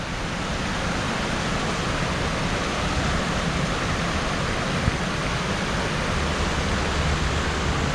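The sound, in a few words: small waterfall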